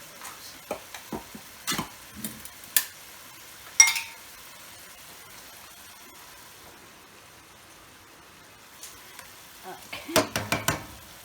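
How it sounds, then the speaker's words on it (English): Sausage pasta in a pan gets stirred with scattered scraping clacks and a soft sizzle, quiet and close, falling still midway before a cluster of stirring scrapes returns. "give it a good stir"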